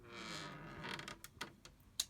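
An appliance door held by a strong magnetic latch is pulled open, giving a low creaking strain followed by several sharp clicks and knocks as it releases, close and fairly quiet.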